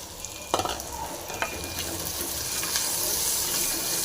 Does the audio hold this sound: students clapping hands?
no